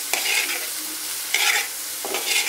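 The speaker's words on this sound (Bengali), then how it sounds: "আমি ঢেঁড়সটাও একটা বড় ফ্রাই প্যানে দিয়ে দিয়েছি" Okra frying in a large frying pan gives a steady sizzling hiss, broken by three bursts of stirring and scraping against the pan.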